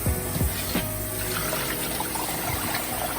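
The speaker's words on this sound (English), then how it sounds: "So wash out my chicken." Raw chicken legs and wings rinsed under running tap water in a kitchen, a steady splashing stream with a few louder gushes as pieces are moved and rubbed.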